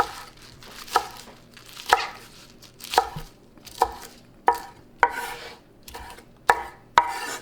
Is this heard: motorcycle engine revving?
no